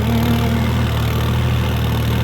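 A farm tractor engine idles close by, a steady loud mechanical rumble with a low even throb that holds unchanged throughout, no voices over it.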